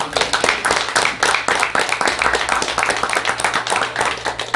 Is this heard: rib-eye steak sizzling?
no